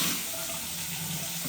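Water sprays steadily from a newly plumbed shower on a troubled job site, a continuous close hiss with no talk over it.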